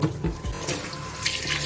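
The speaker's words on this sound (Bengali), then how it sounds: "পটলগুলো এবারে ধুয়ে নিচ্ছি" Running tap water pours steadily over pointed gourds (potol) being washed, splashing and gurgling close by with small shifts as the vegetables are handled.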